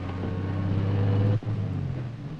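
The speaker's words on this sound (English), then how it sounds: "That's a car." A car engine holds a steady low hum close by, then cuts off sharply for a moment before the motor drone resumes at a slightly different pitch.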